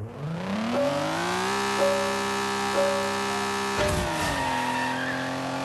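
Modified BMW engine in the Gear.Club racing game revving steadily and loudly, pitch climbing then holding, with a brief squeal-like burst and shift near the end; no talking.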